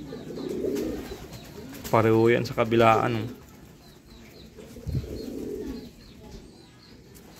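Pigeons coo in a loft, a near burst of rolling coos in the middle, with people talking before and after.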